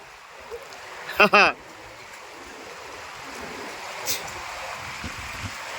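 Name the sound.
fast-flowing cold river stream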